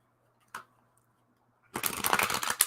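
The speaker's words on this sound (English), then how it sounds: "Shuffle, shuffle, shuffle." Tarot cards are shuffled in a quick burst of dense riffling and flicking that follows a single soft tap and a silent pause, close up and fairly quiet, with no talking.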